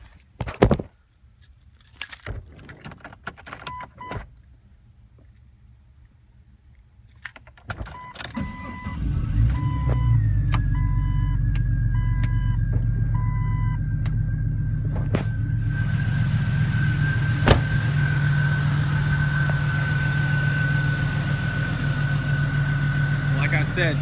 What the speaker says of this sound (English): I'll go ahead and turn the vehicle on